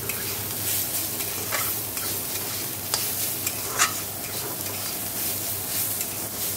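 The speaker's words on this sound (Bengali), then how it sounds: "এদিকে দেখো হচ্ছে থোড় ভাজা।" Sliced banana stem (thor) frying in a pan, a steady close crackling sizzle with occasional louder pops and spatters, no voices over it.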